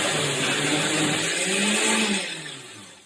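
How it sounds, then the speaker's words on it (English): A kitchen blender whirs loudly, mixing melted chocolate for a heart-healthy chocolate mousse, running steadily close by for a couple of seconds and then winding down as it is switched off. "Now I'm going to put the lid on my blender, and I'm just going to turn this on."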